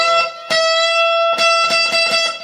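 Electric guitar playing the first two overbends of a solo: a held, slightly driven note with a re-picked attack, then a quick run of plucked notes, close and without talk.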